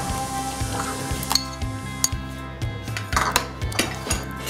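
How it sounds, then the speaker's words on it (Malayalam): A spoon stirs yogurt into kalan, a Kerala sadya curry, in a pan on low heat, scraping and clinking against the metal in a steady rhythm over a faint low hum, close and fairly loud with no talking. "നന്നായിട്ടൊന്ന് ഇളക്കി കൊടുക്കാം"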